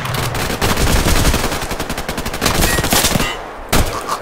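Rapid, loud gunfire in the video game Survarium, bursts of sharp shots in quick succession with short pauses and a final single shot near the end.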